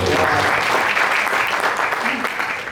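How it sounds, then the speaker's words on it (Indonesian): A church congregation gives sustained, dense applause during a worship service, a continuous close wash of clapping filling the room with a faint voice beneath it. "Boleh kasih tepuk tangan buat Tuhan kita."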